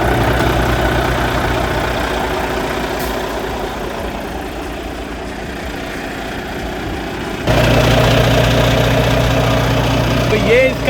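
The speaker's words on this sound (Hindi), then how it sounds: "तो अभी मैं स्टार्ट करता हूँ, आप इसकी नॉइस चेक करना।" A new truck engine idles with a steady, loud, low rumble throughout, stepping up noticeably in level partway through; a person talks over it.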